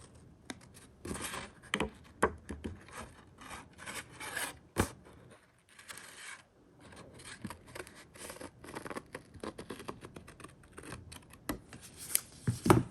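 Paper shapes for a valentine's craft project being cut out with scissors, close, irregular snips and rustling paper handling coming in uneven bursts, with a short quiet pause midway.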